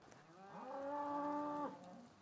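A single long, clear moo from cattle rings out in Nebraska ranch country, rising and holding for about a second before fading, alone over quiet open-air background.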